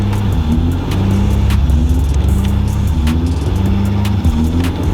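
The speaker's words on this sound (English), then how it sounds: "She's still doing her weird thing where she like revs up real crazy when she first starts." A car engine running loud and close, its pitch climbing in repeated revving surges over a steady low hum.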